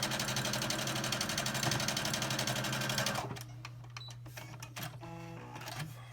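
Sewing machine stitching a quilt block seam at a fast, steady rhythm for about three seconds, then stopping, leaving a low hum and light clicks of fabric handling.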